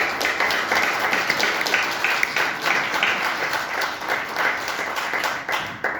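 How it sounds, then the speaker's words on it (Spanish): A crowd at a book presentation breaks into steady, dense applause that holds at an even level for the whole stretch, with no pauses in the clapping. "simplemente pediros un fuerte aplauso para ello"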